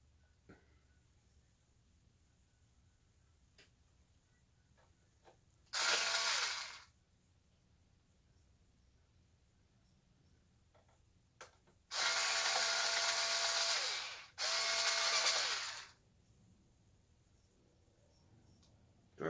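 Electric screwdriver driving screws on an HP Omen laptop during a RAM install, with three bright buzzing whirs: one short burst, then two longer runs in quick succession, close and loud over a quiet room.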